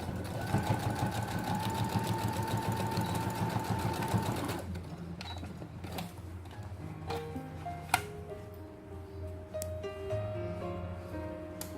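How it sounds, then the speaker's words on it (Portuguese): A sewing machine runs steadily as it stitches a straight seam through thick, layered fabric with padding for a multipurpose toiletry bag, its fast, even rhythm close and loud for several seconds before stopping, followed by quieter handling of the fabric. "Nessa parte é um pouquinho mais chato de estar costurando, porque fica bem grosso."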